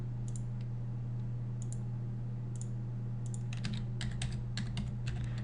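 Quick bursts of clicking keystrokes on a computer keyboard, sparse at first and then a faster run of typing, faint over a steady electrical hum.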